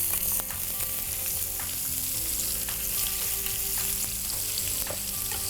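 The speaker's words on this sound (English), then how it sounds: "And then onion can go in." Onion drops into a pan where garlic is already sweating for a Nepali-style mushroom curry, setting off a loud continuous fry and sizzle with scattered light crackles, heard alone without speech.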